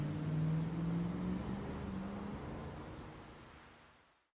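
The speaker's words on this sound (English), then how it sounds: "It's still raining." Rain falls steadily as a broad hiss in the video game AI: The Somnium Files, with a low tonal hum underneath, fading out at the end.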